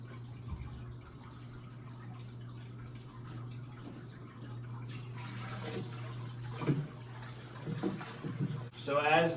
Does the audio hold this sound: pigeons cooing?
no